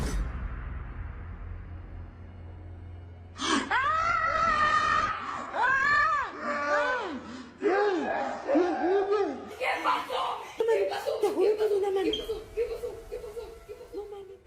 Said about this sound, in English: The mother leaped from her spot, shrieking in sheer terror as she caught sight of that hand.